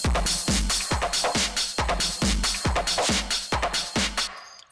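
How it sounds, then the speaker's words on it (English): Drum loop run through the Overdrive distortion effect in Ableton Live, fully wet: a loud, saturated beat with nine or so heavy distorted hits in a steady rhythm, gritty and dense across the whole range, stopping abruptly at the end. "another type of distortion we have right here in Ableton is the Overdrive"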